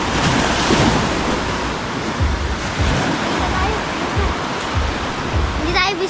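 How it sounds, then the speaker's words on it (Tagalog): Sea waves wash steadily onto a shallow beach in a broad continuous roar, with wind buffeting the microphone throughout and a brief faint voice near the end. "Yan lang ang alon dito, samantalang sa amin, ang lalaki ng alon."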